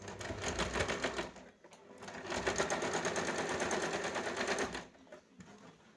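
Sewing machine stitching lace onto the round neckline of a boat neck garment, a steady rapid whirring patter in two close runs with a brief pause between, near and loud, no talking.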